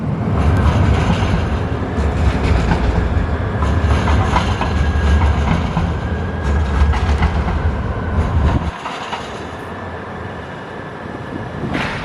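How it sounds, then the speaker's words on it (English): A Portland TriMet streetcar rolls steadily through a pedestrian plaza with a loud continuous rumble and clatter of wheels on rails, dropping off abruptly as it passes. "The streetcar travels right through a nice little pedestrian plaza."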